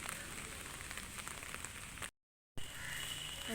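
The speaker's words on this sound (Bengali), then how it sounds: "অনবরত বৃষ্টি হয়ে যাচ্ছে" Continuous rain falls outdoors, a faint, even patter and hiss on surfaces that breaks off briefly to silence midway and then resumes.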